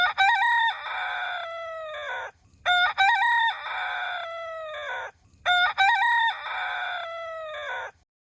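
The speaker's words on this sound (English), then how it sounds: "the rooster," A rooster crows three times in a row, each call a loud, clear, drawn-out cock-a-doodle-doo separated by short gaps, close and with no talking.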